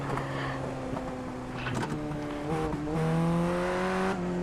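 Ray F1600 Formula Ford race car engine in iRacing at Laguna Seca, hunting and surging as it runs out of fuel, a steady droning tone that wavers, dips and rises again, heard alone.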